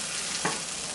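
Food sizzles steadily in a hot pan on the stove while being given a single stir, with a brief scrape near the middle and constant frying hiss throughout.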